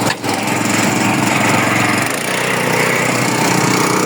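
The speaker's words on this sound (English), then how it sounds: "I got my automatic wheelbarrow." Motorized wheelbarrow with an engine of about 7 horsepower, a loud close steady engine roar that continues throughout after a brief dip at the start.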